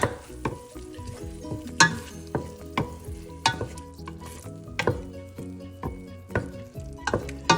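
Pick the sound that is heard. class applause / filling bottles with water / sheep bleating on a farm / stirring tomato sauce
stirring tomato sauce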